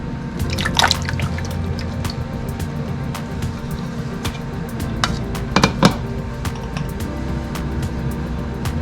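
Canned peaches, 28 ounces, tipped from the can into a saucepan in a home kitchen, giving a wet, dripping slosh with a few sharper splats near the middle over steady background noise.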